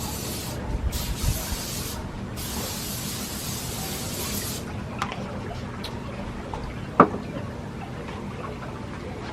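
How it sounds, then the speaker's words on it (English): Several short hissing bursts of cooking spray onto a grill, one after another, followed by quiet outdoor background and a faint click. "I am going to spray the grill so the chicken doesn't stick to it."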